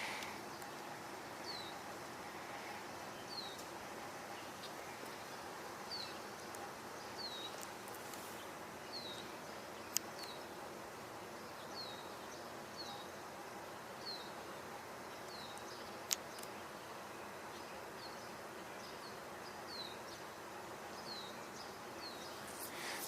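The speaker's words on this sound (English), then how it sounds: "That was a chipping sparrow we just heard." A chipping sparrow gives short, high chip notes repeated at a regular pace, moderately distant over a faint, quiet outdoor background at dusk, with no talking.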